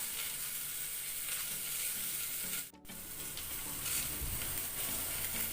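Sliced onions sautéing with a pinch of salt in a pan, a steady close sizzle and hiss with a brief stir-like break midway, no voices.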